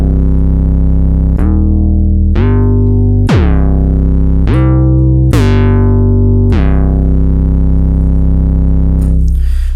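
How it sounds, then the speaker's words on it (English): A deep 808 bass synth patch built in the Omnisphere VST plays six sustained, loud notes with sharp attacks and long gliding decays, each pitched differently, with no talking. "specifically building an 808 bass sound using this incredibly powerful, deep VST"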